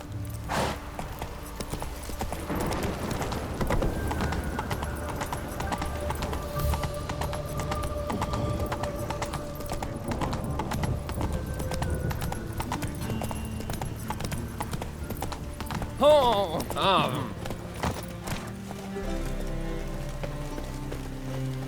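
A horse's hooves clip-clop at a steady walking rhythm in The Witcher 3: Wild Hunt, fairly faint and continuous over ambient game sound, with a brief louder sound near the end.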